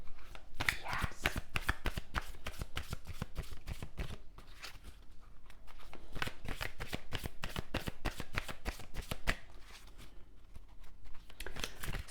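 A deck of Enchanted Veil Oracle cards shuffled steadily for several seconds, dense rapid papery flicks and slaps in a continuous close-up flurry, briefly pausing midway, with no talking.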